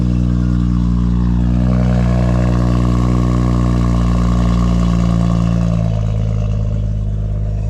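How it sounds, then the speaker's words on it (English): BMW M140i inline six turbo engine revving loudly up close, a deep steady drone that climbs in pitch then settles back down, heard alone with no talk. "probably one of the nicest sounding inline 6 turbo engines ever"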